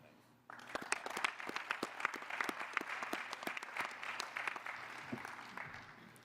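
A round of applause at a medical association business meeting starts abruptly and holds steady as dense, moderately loud clapping from a modest audience, tapering slightly toward the end.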